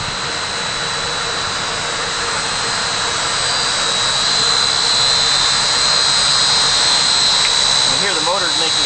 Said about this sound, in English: Here we've got our evaporative condenser.